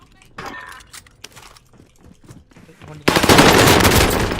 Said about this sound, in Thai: โอ้ยปืนโคตรดัง